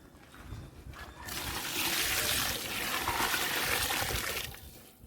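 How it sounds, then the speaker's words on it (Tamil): Water pours steadily into a pot of chicken biryani, a rushing splash that swells after a quiet start, holds for several seconds, then tapers off. "இப்போ நம்ம பிரியாணிக்கு தேவையான அளவு தண்ணி சேர்த்திக்கலாங்க"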